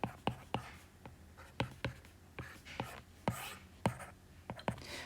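Pen strokes while a table is drawn on paper, heard up close and quiet as a series of sharp scratching taps at an uneven, quick rhythm.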